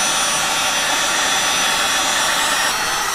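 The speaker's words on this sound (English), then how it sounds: "We're going to try and heat this up all around it, so there's flexibility on the plastic itself." A heat gun warms the plastic housing of a BMW E90 headlight. It makes a steady, loud, close-up rushing roar of blown hot air that holds constant without a break.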